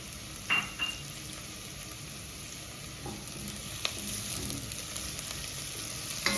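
Chopped onions frying in a pot for ginger butternut soup, a steady soft sizzle running throughout with a few brief clinks and scrapes of stirring.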